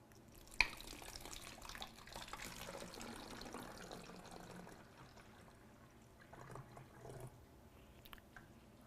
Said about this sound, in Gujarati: જો હું એક કપ પાણી